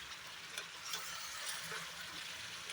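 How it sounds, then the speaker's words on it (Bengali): Chicken and potatoes stirred in a pot, a soft, steady scraping and sizzling hiss with faint clinks, heard close and quiet with no voices. "আবার একটু নাড়াচাড়া করে দেব যাতে আলুগুলো নিচে চলে যায়"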